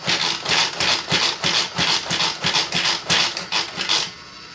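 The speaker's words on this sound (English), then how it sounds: "take the peaches and put into the manual food processor, and I'm just going to grind them up" A manual food processor chops peaches with a regular series of about a dozen rhythmic whirring pulls, each a short burst of grinding and rattling, close and steady, stopping near the end.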